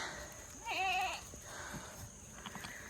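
A goat bleats once nearby with a wavering cry, followed by quieter rustling and faint farm sounds in a wooded pasture.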